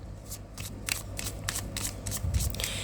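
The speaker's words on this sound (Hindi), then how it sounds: "last shuffle" A deck of tarot cards riffled close by in quick repeated bursts of crisp flutter, with a faint low hum underneath and nobody speaking.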